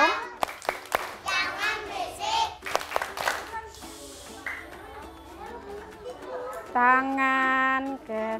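Schoolchildren clapping hands in a rhythmic clapping game in a classroom, sharp claps scattered between children's voices and an adult speaking, with singing toward the end.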